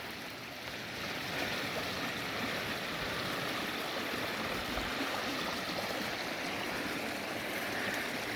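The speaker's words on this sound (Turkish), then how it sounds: "Su sesi dediğim gibi ayrı bir zevki var, ayrı bir tadı var. Huzur veren bir ses." A stream flows outdoors in springtime Muğla, Turkey, near olive trees, a continuous close rush of water that stays steady and fairly loud throughout, with no voices.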